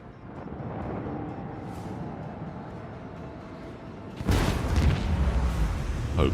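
Torpedo impacts in the space combat of Warhammer 40k Rogue Trader: a low rumbling boom builds under a faint hum, then a sudden heavy explosion bursts in and keeps roaring with a follow-up blast near the end.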